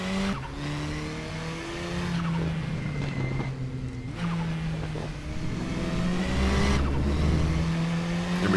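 A KTM X-Bow race car in RaceRoom at Portimao, its engine howling at full throttle and rising through the gears in repeated sweeping climbs, with tyre squeal in places.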